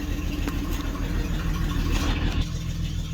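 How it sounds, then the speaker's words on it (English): A 1976 AMC Gremlin engine idles steadily with a low, even rumble and a faint whir, with no voices throughout. "This thing's just idling along with like almost no effort."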